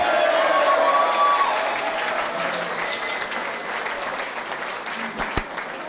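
Audience applause at a political party's twelfth-anniversary speech in London, a dense, steady burst of many hands clapping that fades slightly, with some voices and a few sharp claps near the end.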